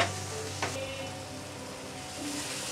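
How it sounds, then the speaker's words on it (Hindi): Chopped tomato sizzles steadily in a hot pan, a quiet continuous frying hiss with a brief soft knock near the start and no voices. "इसको 2 मिनट के लिए पहले पकाएंगे हम टमाटर को।"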